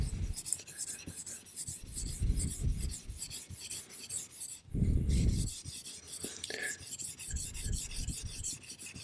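A chisel drawn with firm pressure across a soft Arkansas sharpening stone gives repeated close, raspy scraping strokes, with a brief louder burst midway and quiet voice-like murmurs underneath.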